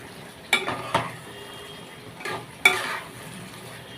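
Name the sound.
stirring aloo dum (potato curry) in a pot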